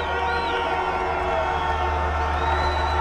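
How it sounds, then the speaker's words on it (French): A dense, loud crowd cheers and whoops continuously at the Montreal Forum during a Stanley Cup celebration, a sustained roar with shrill whistles and shouts rising above it. "La foule est en liesse"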